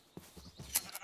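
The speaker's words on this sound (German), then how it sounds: "Hier hat es viele Schafe, das ist sehr gut." Sheep bleat in Minecraft with the Pixelmon mod, a few faint, short game-sound calls spread across the moment with no talking over them.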